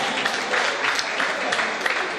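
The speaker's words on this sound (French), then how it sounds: "On applaudit d'abord pour elle, s'il vous plaît." Sustained applause from a student audience at a campus quiz competition, a steady dense patter of many hands clapping at moderate volume, with no speech over it.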